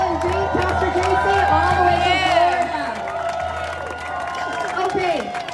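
A protest crowd at the California state capital applauds and cheers for speakers, a sustained wash of clapping with whoops. An amplified voice talks over it, and the applause thins out toward the end.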